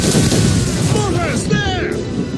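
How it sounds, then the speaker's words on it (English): Ship mortars firing during a naval battle in the video game Assassin's Creed Rogue, heavy booms and crackling blasts packed together over a dense roar of sea and combat, with shouted voices in the mix. "Ready those mortars, Shay. Fire!"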